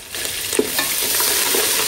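Browned onion and ginger-garlic paste sizzle in hot oil, a steady close crackling hiss with scraping stirring strokes breaking through now and then.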